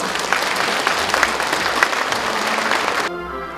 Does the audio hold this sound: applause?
yes